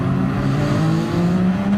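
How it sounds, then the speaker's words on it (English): Classic Formula 1 car engine in GT Sport on the Nürburgring GP circuit, holding a steady, sustained buzz against the rev limiter, loud and close, with no voices. "I'm buzzing the limiter because I can't hear my own revs"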